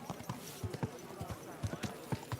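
Hooves of a horse clip-clop in the medieval video game Kingdom Come: Deliverance II, striking in an uneven walking rhythm, moderately close, against faint background ambience.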